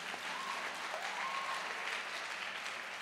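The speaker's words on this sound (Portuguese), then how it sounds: "Aplauda o Senhor Jesus." A church congregation applauds steadily, a broad, even wash of many hands clapping at a distance for a few seconds with no voices standing out.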